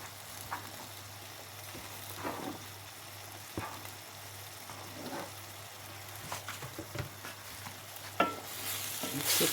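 Sayote and carrots being stir-fried in a pan with shrimp: a quiet, steady sizzle broken by intermittent scraping stir strokes, growing louder and hissier near the end.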